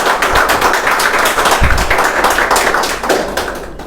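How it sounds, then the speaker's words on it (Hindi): A crowd at a ceremony honouring a national disabled cricket team claps loudly in welcome, a dense, sustained patter of many hands with a few heavier thumps, continuing steadily for several seconds. "ज़ोरदार ताली बजा करके इनके लिए स्वागत करिए।"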